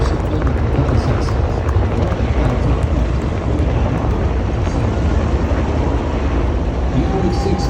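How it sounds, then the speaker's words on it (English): Vietnam-era U.S. Army helicopters fly over the National Mall during an Army 250th anniversary parade, giving a continuous loud roar that holds steady throughout. "the roar of these legendary Army helicopters takes to the air, flying overhead"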